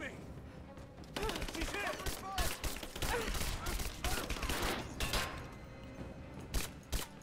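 Gunfire in Rise of the Tomb Raider: bursts of rapid shots and sharp cracks over a steady backdrop of combat noise, with occasional voices calling out beneath the shooting.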